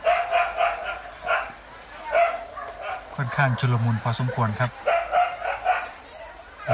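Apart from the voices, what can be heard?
dogs barking at elephant on road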